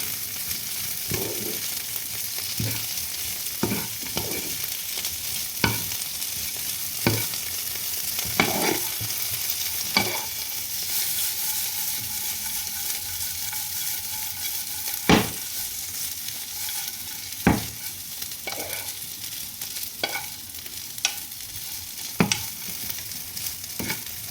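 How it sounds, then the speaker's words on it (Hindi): Potatoes sauté in hot oil in a pan, giving a steady soft sizzle broken by repeated sharp scrapes and clatters of stirring, with no voices. "एंड अब मैं इनको सौटे करना शुरू कर दूँगा तेल में"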